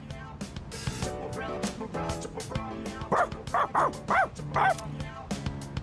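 In the Persona 3 Reload video game, a dog gives a string of short yips and barks in quick rhythmic bursts over soft background music, fairly clear and moderately loud.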